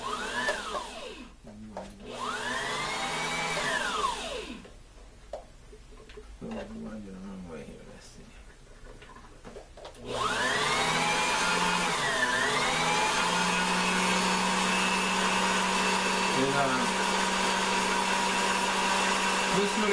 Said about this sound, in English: When I try to wind my bobbin, it sounds like it's going really slow.